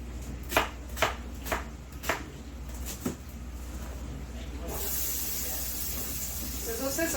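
Food sizzling in a hot pan while wild rice is cooked, a steady hiss building after a series of sharp chopping taps, close and fairly quiet.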